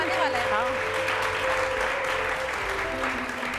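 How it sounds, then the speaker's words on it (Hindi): Studio audience applause on a Hindi TV game show, a dense, steady wash of clapping that fills the whole stretch, with a host's voice speaking over it. "तालियां बजाइए जी"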